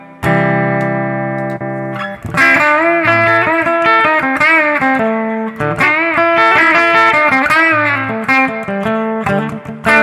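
A clean electric guitar plays through a Hotone Ampero 2 Stage amp modeler, a sustained chord ringing out and then picked phrases with bell-like upper mids and a lingering reverb tail, alone without talk.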